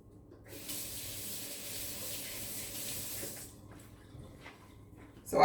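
Water from a kitchen tap runs in a steady, soft stream over rice being washed for burritos, then cuts off, followed by faint wet handling noises and a brief louder clatter at the end.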